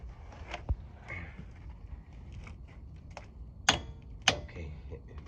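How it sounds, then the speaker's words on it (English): A torque wrench on the suspension of a 2008 Dodge Durango gives two sharp, close metallic clicks a little over half a second apart, after faint handling noises and a soft knock in a quiet workshop. "when you hear that clicking noise, you know you reach your foot-pound pressure that you're looking for"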